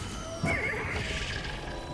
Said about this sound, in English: The celestial horse.